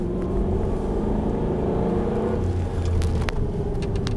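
An Aston Martin Vantage V8 accelerates flat out on a race track, a loud close engine drone rising in pitch, with a few faint clicks toward the end.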